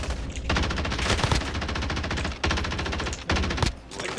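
Rapid automatic gunfire in a video game, dense loud bursts of shots fired close up, broken by brief pauses between long sustained volleys.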